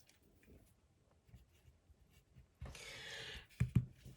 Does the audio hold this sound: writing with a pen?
yes